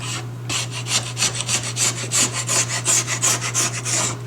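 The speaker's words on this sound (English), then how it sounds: "you can see how this tool is peeling away my sidewall" A ski tuning tool scrapes repeatedly along a race ski's sidewall, peeling material away: a close, rhythmic series of rasping strokes over a steady low hum, with no talking.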